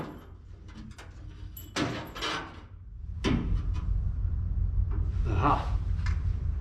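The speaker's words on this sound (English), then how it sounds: "Now I'm removing the entire old felt and guide support out of the door." Old window felt and guide support being pulled out of the door of a 1962 Corvair Greenbrier van, giving close scraping, knocking and rubbing noises in irregular bursts, a couple of sharp clunks, with no talking.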